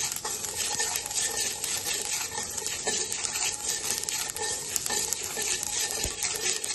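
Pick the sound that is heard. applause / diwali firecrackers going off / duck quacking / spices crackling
spices crackling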